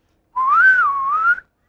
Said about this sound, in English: We can whistle like birds.